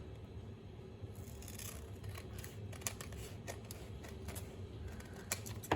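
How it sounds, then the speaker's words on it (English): Scissors trimming folded paper pages of a small Benton dollar-store book journal, a string of close, crisp snips spaced irregularly over a low room hum. "I'm going to just trim these little ones off."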